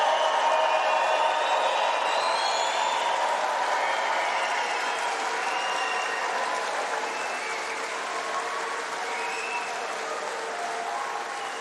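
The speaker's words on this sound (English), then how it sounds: "raise the roof of applause for your graduate that you've come to support" A graduation ceremony audience at a summer congregation claps for its graduates, a dense sustained wave of applause filling the hall, loud and even before easing slightly toward the end, with no speech over it.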